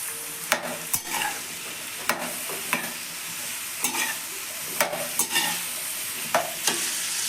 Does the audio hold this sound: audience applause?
no